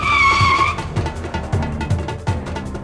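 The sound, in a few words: car braking to a stop with skidding tires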